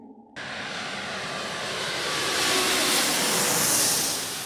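A steady, loud roar of jet engine noise heard from inside an airliner cabin, a constant broadband rumble and hiss that swells slightly.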